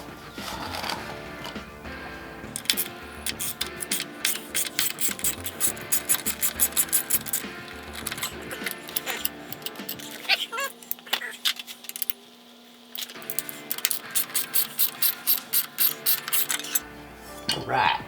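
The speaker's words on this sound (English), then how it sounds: "So let's get these 2 bolts right here and right here off" A ratchet removing bracket bolts while installing an SP Concepts LaneSplitter, rapid clicking runs in several bursts over metallic clinks and handling noise, close by, with someone speaking in between.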